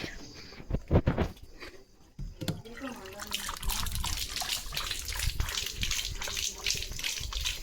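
A German Shepherd drinks water, giving a run of quick, wet lapping splashes that repeat rhythmically at close range after some brief earlier sounds.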